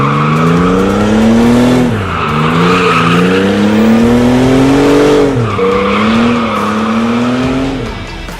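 A car drifting with the handbrake, tires squealing loudly in two long sweeping skids, with the engine droning beneath and pitch rising and falling through the transitions, close and continuous.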